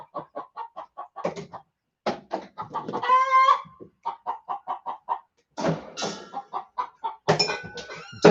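Chickens cluck in quick rhythmic bursts, close and distinct, with a few louder squawks mixed in and short pauses between runs of clucks.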